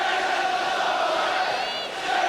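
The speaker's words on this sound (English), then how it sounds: "the crowd enjoying these final couple of minutes" A packed football stadium crowd at a 1990 Tottenham Hotspur v Norwich City First Division match roars in a loud, continuous wall of noise with chanting tones, dipping briefly near the end before swelling again.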